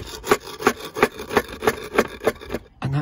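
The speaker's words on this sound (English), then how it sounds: "So what I need to actually do is just move these tiles just above it." Roof tiles are slid upward over one another by hand on a pitched roof, giving about eight close, rhythmic scraping rubs roughly every third of a second, followed by a brief pause and a final heavier scrape.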